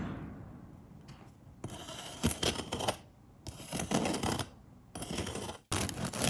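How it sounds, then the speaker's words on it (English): Fingers tap and rub the baked crust of a sourdough loaf up close, giving bursts of crisp, dry knocks and scratchy crackles separated by short quiet gaps. "Let's check out the crust with some sound test."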